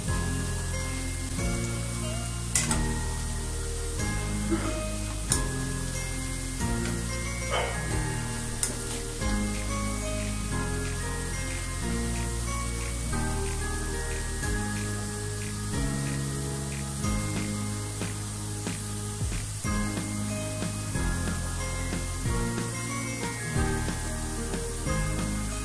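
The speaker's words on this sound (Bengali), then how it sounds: "আমি নেড়ে চেড়ে বুন্দিয়া গুলোকে ভালোভাবে ভেজে নিচ্ছি ভিউয়ার্স" Boondi sweet batter drops sizzle and crackle steadily in hot frying oil while being stirred, a continuous frying hiss heard under background music.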